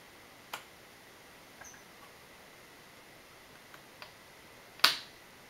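A RAM module seating into the slot of a 2011 MacBook Pro gives a single sharp click near the end, preceded by a few faint ticks and taps in a quiet room.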